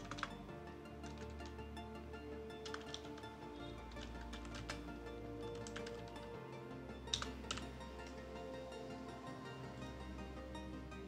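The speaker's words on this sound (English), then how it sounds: "Now you need to type your full name." Keys tapped on a computer keyboard while entering a full name during a Pop!_OS 22.04 install, soft irregular clicks in short bursts over a steady low hum, quiet and close.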